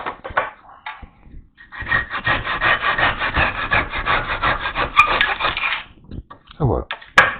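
A back saw cuts through a wooden peg in quick, rhythmic rasping strokes that are close and fairly loud, with a few scattered knocks and handling sounds before and after.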